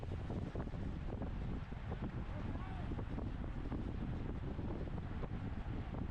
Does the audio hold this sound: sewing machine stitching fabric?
no